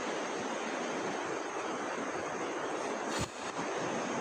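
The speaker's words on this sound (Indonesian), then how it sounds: "Aliran sungai Cisadane teman-teman." The Cisadane river in the Bogor area flows with a steady broadband rush, constant and fairly loud throughout, with a brief thump near the end and no voices.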